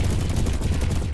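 Turrets fire in a sci-fi strategy video game, a rapid rattling burst of continuous automatic gunfire that is loud and dense across the whole moment, with no talk over it.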